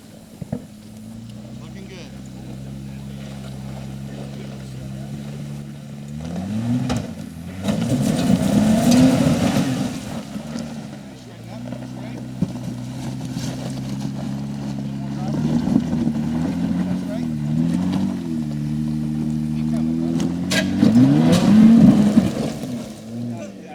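An off-road vehicle on 35-inch tires climbs a rock face, its engine droning steadily and revving in surges as it strains upward, with people talking over it.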